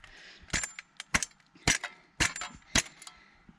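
A metal stove chimney pipe is banged to knock loose, dusty creosote off its inside. About six sharp, loud, close knocks come at irregular intervals, with a few faint rattles between them.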